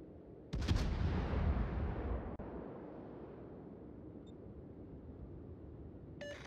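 Naval guns fire on an enemy warship in a video game, American armor-piercing rounds. One loud booming salvo opens, followed by a long rumbling decay with a faint beep near the end.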